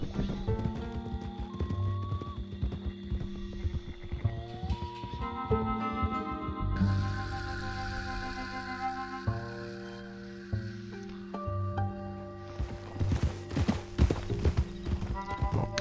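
Horse hooves clip-clopping at a gallop in the video game Red Dead Redemption 2, a quick steady rhythm under game music and effects, fairly close.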